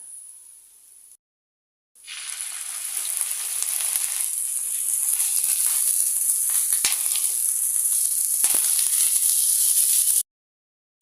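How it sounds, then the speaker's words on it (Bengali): Onion and garlic paste fries in hot oil for a fish bhuna, a loud bright sizzle that starts after a short pause and builds steadily, close and alone before cutting off abruptly. "রসুন বাটা দিয়ে দিব হাফ টেবিল চামচ পেঁয়াজ রসুনগুলো দিয়ে ভেজে নেব"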